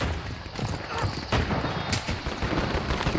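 Two quick gunshots crack out in a squad-based battle royale shooter match, short sharp reports over a steady wash of game ambience and background noise, with no voices over them.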